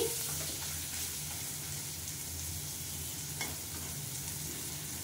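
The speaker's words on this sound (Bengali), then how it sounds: "ভালো করে কষিয়ে নিচ্ছি" Lote fish and spices sautéing in a pan, a steady even hiss of frying oil held at a low level throughout, with only a faint occasional stir and no voices.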